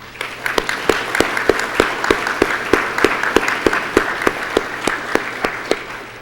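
Audience applause at the 2014 Cupertino State of the City Address, honoring the library and youth, with steady, fairly loud clapping and a few distinct sharp claps punctuating it throughout.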